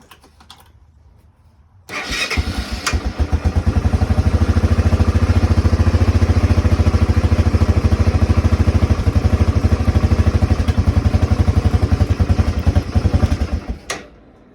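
A Honda 300 Fourtrax ATV engine, long left sitting in a shed, fires up and runs with a loud, rapid, even chugging pulse for about twelve seconds before cutting off, close by with no voices.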